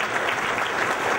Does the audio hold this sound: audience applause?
yes